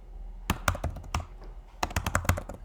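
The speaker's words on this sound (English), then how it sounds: "Every time I type a letter" Typing of letters on a computer keyboard: two clusters of crisp, close key clicks in quick uneven succession, separated by a short quiet gap, with no talk.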